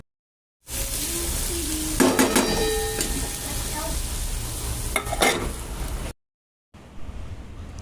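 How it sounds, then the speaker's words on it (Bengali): Bitter gourd and pumpkin sizzle in a pan while a utensil stirs them, scraping and clinking against the metal through a steady fry. The sound cuts out, then returns more faintly. "চলো একটুখানি এটাকে নাড়াচাড়া দিয়ে সুন্দর করে গাটাকে নরম করে নেওয়া যাক"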